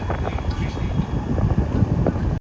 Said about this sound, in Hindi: मैं मस्त पंखे के आगे खड़ा हूँ, हवा चल रही है, बाल उड़ रहे हैं।